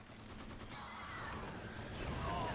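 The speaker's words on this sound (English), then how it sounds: "That was a big explosion." A large explosion in the video game Lost Planet 2 lands amid dense gunfire-like crackle, making a loud, continuous roar of battle noise that swells toward the end.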